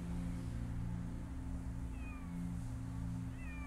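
A cat meows several times in the video game Copycat, the short cries fairly soft over a steady low hum of game ambience.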